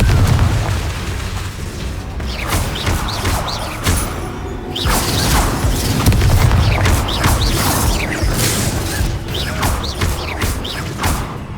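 Explosion spells fired in the video game Hogwarts Legacy: repeated loud booms and bursts go off one after another in a dense, continuous battle mix, with no speech.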